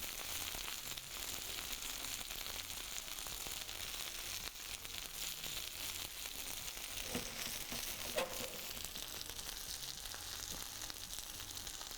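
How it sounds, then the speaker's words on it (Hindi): Kaleji (liver) fries on a high flame in a steady, dense sizzle that runs close and unbroken, with occasional faint stirring scrapes and no one speaking. "तो हम इसको जब इस तरह हाई फ्लेम पे अच्छी तरह से 3 से 4 मिनट फ्राई करेंगे"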